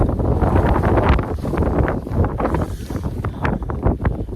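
Strong wind buffets the microphone outdoors while biodegradable field plastic is laid through rollers, a loud, steady, gusting rumble with no clear talk.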